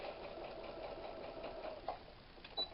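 Domestic sewing machine stitching a narrow seam on a 1940s-style apron, then back tacking; a quiet, fast, even mechanical whir with small knocks and a brief click near the end, close and alone.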